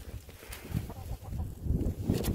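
Soft clucking from a few chickens close by on a freezing winter night, scattered low calls over a rustling, breathy background with no talking.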